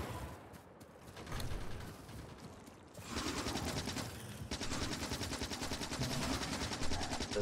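Factorio turrets chatter in rapid bursts of automatic fire, the sound thickening into a dense, continuous rattle halfway through, with mechanical clatter mixed in.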